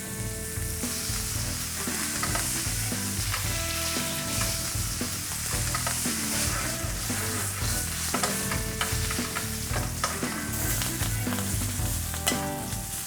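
A steak sears in a pan with a knob of butter while hot fat is spooned over its surface, giving a loud, continuous sizzle with steady clattering and scraping throughout.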